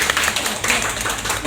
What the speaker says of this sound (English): please give me the clap